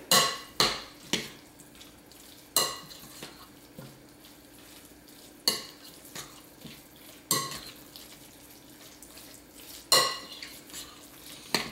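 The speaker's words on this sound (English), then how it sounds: "And then just stir all of this together." Casserole mixture of chicken, ham, cheese, mushrooms and onions stirred in a dish, with sharp intermittent clanks of a utensil against the pan separated by quiet gaps, close and unaccompanied by speech.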